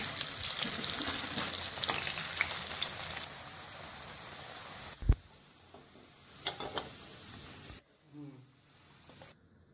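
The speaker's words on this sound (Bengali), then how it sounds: "এবার কড়াইতে সর্ষের তেল দিয়ে প্রথমে ম্যারিনেট করে রাখা আলুগুলোকে 5 মিনিটের জন্য নরম করে ভেজে একটা আলাদা পাত্রে তুলে রেখে দিতে হবে।" Marinated potatoes fry in mustard oil in a wok, a steady close sizzle that thins out partway through, broken by a few clicks and knocks.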